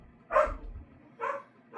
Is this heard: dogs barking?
yes